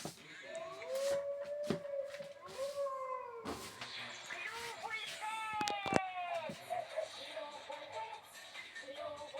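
Dog howling through the night in a Petz Club pet game, with long wavering howl tones repeated over several seconds and mixed with clicks and other game noises at moderate level.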